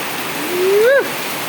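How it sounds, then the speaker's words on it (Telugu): Dense rushing rain noise fills the background while a short vocal sound rises briefly above it. "వర్షం పడుతుంది ఫ్రెండ్స్"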